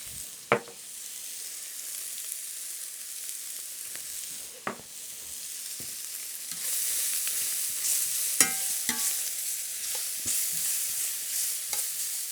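Thinly sliced onions frying in a skillet with salt and pepper, a steady soft sizzle with occasional stirring scrapes and clicks, close by and without talk.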